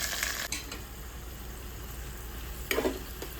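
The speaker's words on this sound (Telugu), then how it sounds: "ఇవన్నీ మంచిగా వేగిన తర్వాత రసంలో పోసేసుకోవాలండి" Red chillies, curry leaves and asafoetida frying in hot oil for a Telugu-style tomato rasam tempering, a steady close sizzle with a few sharp stirring clinks of a utensil against the pan.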